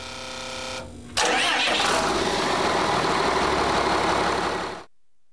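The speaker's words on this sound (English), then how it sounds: "Start the engine." A Cummins diesel engine cranks briefly, catches with a loud roar, and settles into a steady, rough idle for several seconds before the sound cuts off.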